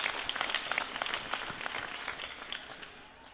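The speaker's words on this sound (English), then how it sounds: "One last round of applause for both teams, please" A crowd applauds both girls' youth hockey teams, the San Jose Junior Sharks and their opponents, after a championship game at a rink, in a dense, distant-sounding patter of clapping that slowly fades.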